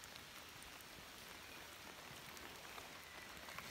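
Heavy rain pours steadily outdoors at a woodland wildlife pond site, a dense continuous hiss of drops hitting surfaces with no voices.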